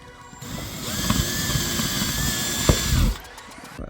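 A power drill whirs steadily for about three seconds with a high motor whine, spinning up and winding down, close by and fairly loud.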